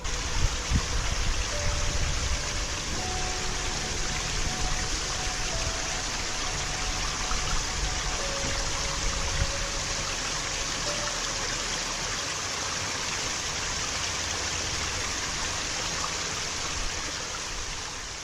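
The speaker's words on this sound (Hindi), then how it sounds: "झरना, ये देखो, very beautifully falling from there. मस्त पानी बह रहा है" A monsoon waterfall pours down rocks in a steady, full rushing roar that holds evenly throughout, close and continuous with no talking.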